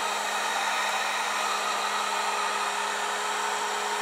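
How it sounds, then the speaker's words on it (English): A hot air blower playing over freshly poured resin gives a steady, close, continuous whooshing whir with a faint constant hum underneath and no talking. "you can see the hot air actually blow it and push it around"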